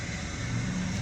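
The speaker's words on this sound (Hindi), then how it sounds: "ये हमारी गाड़ी स्टार्ट हो गई है" A slightly older manual car's engine idles just after starting, a steady low rumble that holds evenly close by with no talk over it.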